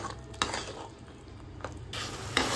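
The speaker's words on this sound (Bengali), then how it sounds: "দিয়ে সমস্ত উপকরণ ভালোভাবে মিশিয়ে নিচ্ছি" Spice mixture for mutton kasha, with salt and a little sugar, stirred in a pan with a low steady sizzle, three sharp scrapes of a spoon against the metal ringing out over it.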